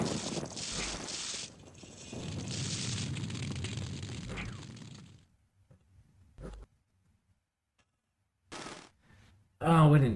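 A Dominions 5 pillars of fire spell roars as a sustained, crackling burst of flame for several seconds, then fades into near silence broken by a few short clicks and a brief voice.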